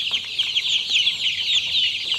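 A flock of one-month-old Japfa Comfeed 402 laying hens keeps up a dense, continuous chorus of high, shrill peeping and chattering close by, with no speech.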